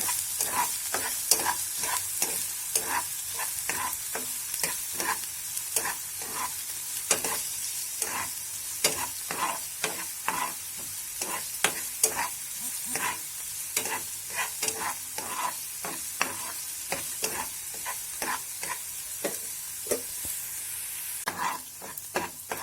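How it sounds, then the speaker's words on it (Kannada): Chopped onions fry in oil for an egg and vegetable omelette, with a constant sizzle broken by a fast, regular run of spoon scrapes against the pan, close and clear, with no talking. "ಸೊ ಈರುಳ್ಳಿಯನ್ನು ಚೆನ್ನಾಗಿ ಫ್ರೈ ಮಾಡ್ಕೋಬೇಕು ಎಣ್ಣೆಯಲ್ಲಿ."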